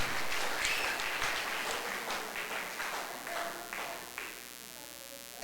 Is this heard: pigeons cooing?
no